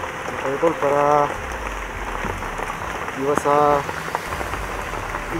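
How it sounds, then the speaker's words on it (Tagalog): Heavy rain pours steadily onto a surface, a dense continuous patter close by, with a voice speaking briefly twice over it. "Labing ulan dito sa amin. Palaging ano, no, palaging umuulan. Araw, gabi."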